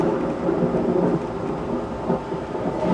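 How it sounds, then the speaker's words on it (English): A haunted house lightning prop plays a looped thunder effect: deep, rolling rumbles with rain hiss mixed in, swelling and fading in waves at steady loudness, with no talking. "Lightning and thunder."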